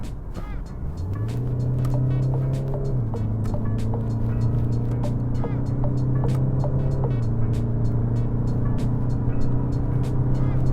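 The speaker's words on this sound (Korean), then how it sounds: "지금 저속 구간에서 고속 구간으로 가기 때문에 한번 급가속을 조금 해보겠습니다" A DS 3 Crossback compact car with a 131-horsepower 1.5-litre diesel engine accelerating hard onto a highway, its engine note climbing steadily through two gear changes, with a close, loud interior drone throughout.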